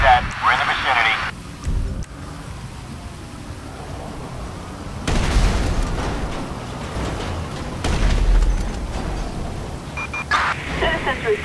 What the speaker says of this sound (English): Citizens report an explosion on Grove Street in Davis.